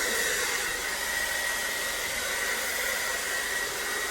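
A blow dryer runs steadily during a haircut, giving a loud, continuous, rushing airflow with a thin whine on top and no gaps.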